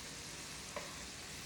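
Onions and Salisbury steak cook in a pan, producing a faint, even, continuous sizzle with a small brief bump midway.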